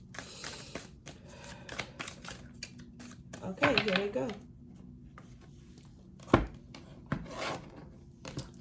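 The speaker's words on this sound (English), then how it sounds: "I just do a little bit more shuffling on camera" Tarot cards riffle and slap together in bursts of shuffling, close up, while a voice speaks briefly over the handling noises.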